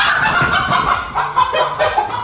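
A rooster clucks in short, soft bursts close by, a brief run of low throaty calls against a faint outdoor background.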